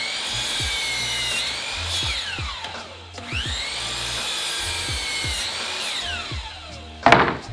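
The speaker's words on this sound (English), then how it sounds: "I'm gonna use my miter saw to cut the rest of these boards" A miter saw cuts wooden boards for floating shelves in two passes. Each time the loud motor whine spins up, holds through the cut and winds down, and a short sharp clatter follows near the end.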